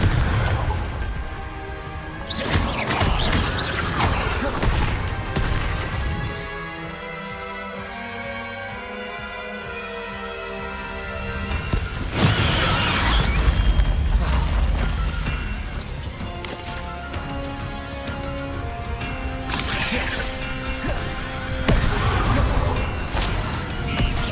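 A Confringo blasting curse detonates in the Hogwarts Legacy video game, with heavy booming blasts and crashing impacts over sustained tonal game music, loud and close, with a further burst of blasts near the end.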